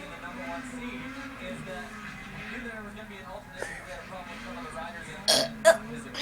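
A man burps under casual background talk, with a drawn-out low belch followed by a couple of short, louder burp bursts near the end.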